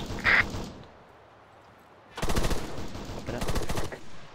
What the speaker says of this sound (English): we have shooting the enemy. Take fire.